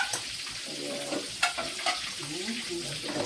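Frying in a little oil in a pan, a continuous close sizzle broken by scraping stirs and a few sharper clinks of the utensil, with faint background voice sounds underneath.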